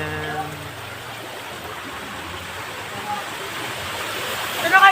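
Floodwater flowing through a street in Montalban, a steady broadband rushing wash heard close, with a brief voice at the start.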